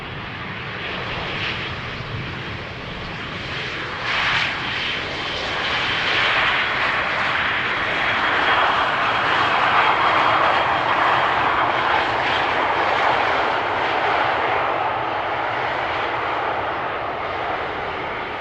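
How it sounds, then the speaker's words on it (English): EasyJet Airbus airliner landing at Amsterdam Schiphol on runway 18R, a loud sustained jet engine roar that swells slightly midway and stays strong and continuous, with no voices. "EasyJet Airbus also taking the first exit over here"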